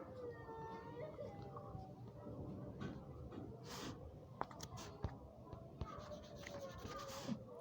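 A pen scratches Urdu letters into a notebook, soft scraping strokes and small taps coming in short bursts, faint and close, with a voice speaking over parts of it.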